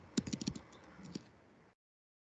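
Quick keystrokes tap on a computer keyboard, a burst of about five crisp clicks followed by a couple of softer presses, close and fairly quiet, then cutting to silence.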